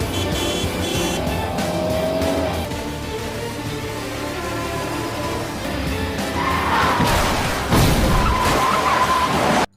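Cars in a film chase through narrow, branching streets, engines roaring steadily with tires skidding and squealing, loud and close, swelling near the end before cutting off abruptly.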